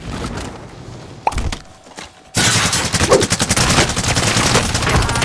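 Rapid bursts of automatic gunfire in the battle-royale video game Warzone, loud and dense, starting after a brief lull with a couple of isolated shots, then continuous rattling volleys to the end.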